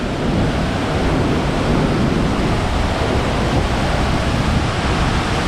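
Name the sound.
rushing water and wind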